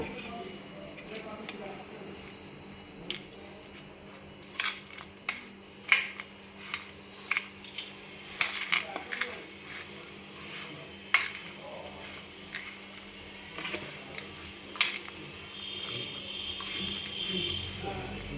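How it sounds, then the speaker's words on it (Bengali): Dry ingredients mixed by hand for bhapa pitha, including rice flour: soft, irregular scraping and clicking taps close by, coming in scattered bursts over a low steady hum. "এবার ডাই ইনগ্রিডিয়েন্টসগুলোকে আমি সব একসঙ্গে মাখিয়ে নেবো"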